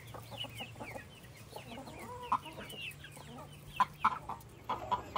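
Chickens in a backyard coop cluck and chirp steadily at a distance, with a few louder squawks near the end over a faint low hum.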